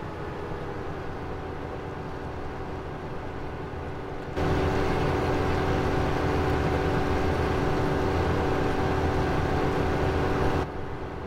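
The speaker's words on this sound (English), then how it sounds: "tractor with the trailer following us, so we're going to run across halfway across the field." A tractor pulling a trailer across a silage field, a steady engine drone with rumbling wheels that grows louder partway through and stays constant, with no voices.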